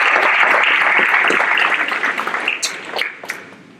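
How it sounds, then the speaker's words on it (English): Applause from a ceremony audience for a graduating class, starting as a full, dense burst and then thinning out into scattered individual claps as it fades away. "If everyone would just help me give them another round of applause this morning."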